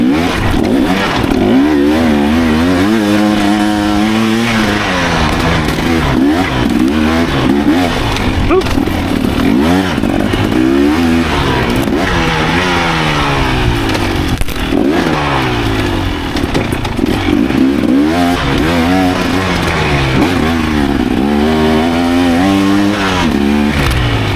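Dirt bike engine revving and shifting continuously along a singletrack trail in Wellsville, Ohio, loud and close with rising and falling pitch as the rider accelerates and backs off through tight turns.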